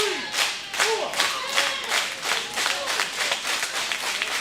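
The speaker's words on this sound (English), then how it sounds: "Oh, the crowd trying to get behind Will.I.am" A small crowd at a kids' wrestling show claps in a steady rhythmic beat with scattered shouts and cheers, loud and close throughout.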